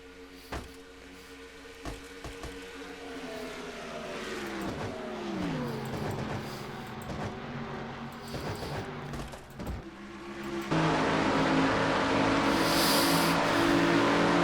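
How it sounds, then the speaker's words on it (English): NASCAR race cars at speed at Pocono Raceway in a racing video game, with engines droning steadily and pitch sweeping down and back up through a turn, then a louder, rougher roar toward the end, with no talk. "See how Joshua drives his track at Pocono Raceway, 190 miles an hour into turn number 2."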